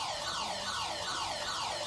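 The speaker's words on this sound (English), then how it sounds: "the siren sounds in the background" The full-time siren at a touch football match, a continuous rising and falling wail sounding steadily throughout, distant and fairly faint over crowd ambience, no talk.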